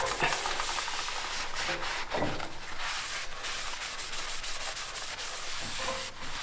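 Cloth rubbing and wiping across a brake rotor on a Toyota 4Runner during a front brake job, a steady close scrubbing sound with repeated strokes and no talk.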